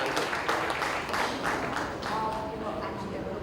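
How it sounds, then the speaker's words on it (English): Audience members at an OTT India festival event clap for actor Jaideep Ahlawat, the applause moderately loud and even, with some voices mixed in among the crowd. "we need to give him a round of applause for this being Jaideep"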